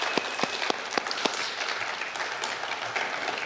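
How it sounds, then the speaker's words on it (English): An awards ceremony audience applauds steadily, a dense wash of clapping with a few louder nearby claps standing out at the start. "Let us have another round of applause for all of our award recipients tonight."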